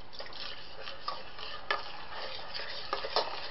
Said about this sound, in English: I'm slowly going to add milk and keep stirring and keeping it thickening up, and make sure no lumps happen